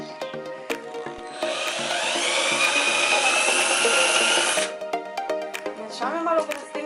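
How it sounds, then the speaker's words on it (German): A power drill bores out the rivets in the metal floor plates of a Sprinter van, giving one sustained high, grinding whine that lasts a few seconds. Clanks and shop noise are heard before and after it. "Ja, natürlich die Bodenplatten sind voller Nieten, also bohren wir die auch raus"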